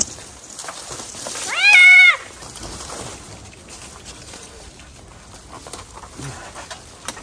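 A small kitten in distress during a rescue by firefighters gives a single clear, high meow, with quiet background noise around it.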